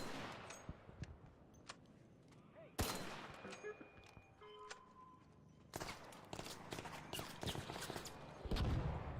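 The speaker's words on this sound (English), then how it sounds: "Was that dude shooting at me?" Gunfire in the video game Arc Raiders: sharp, loud shots and rapid bursts ring out at irregular intervals, some near and some farther off, with brief quiet stretches between them.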